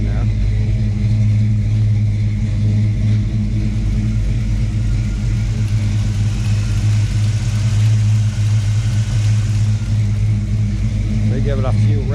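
A 1952 Chevrolet 5-window pickup truck engine idles steadily after a cold start, a loud, close, continuous low rumble with an even mechanical hum and no voices.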